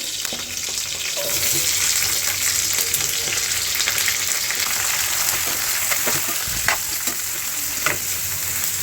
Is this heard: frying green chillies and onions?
yes